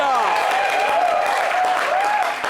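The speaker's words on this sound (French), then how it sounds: "Notre invitée du jour est la Kinda Chanel, que j'aimerais qu'on applaudisse très, très, très fort." Studio audience applauding a guest on a French showbiz TV programme, a steady, dense wash of clapping with some voices or music lines running through it for the whole stretch, fading slightly at the end.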